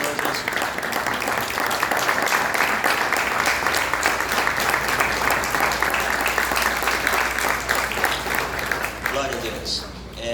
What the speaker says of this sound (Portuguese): dar uma linda salva de palmas para o Senhor Jesus